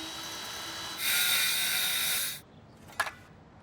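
Plywood being cut to fit inside a bench, likely with a circular saw: a faint hum, then a loud steady high-pitched cutting whine for over a second that stops abruptly, followed by a brief clunk.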